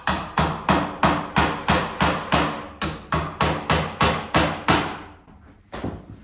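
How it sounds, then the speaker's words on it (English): Hammer driving nails to fix an electrical outlet box onto a wall stud, a steady run of about seventeen sharp, loud, evenly spaced blows close by, then a pause and a softer rustle at the end. "Drive in the nails."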